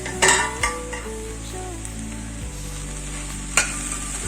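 Okra frying with peanuts in a pan gives a steady, close sizzle, broken by a few sharp scrapes and clinks of stirring near the start and once more toward the end. No one speaks.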